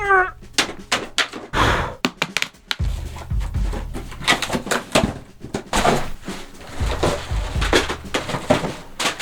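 A cardboard package of electronic components being opened by hand, with close knocks, thumps and rustling scrapes in irregular bursts, loud and up front.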